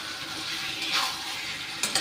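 Potatoes, already fried, tipped into a spice masala frying in oil for aloo dum, giving a steady broadband sizzle with a brief louder burst near the end.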